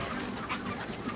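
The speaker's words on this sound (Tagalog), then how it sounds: "Ngayon po magpapakain tayo ng ating manok." Free-range chickens cluck during a morning feeding, with soft, overlapping clucks close by in a short burst.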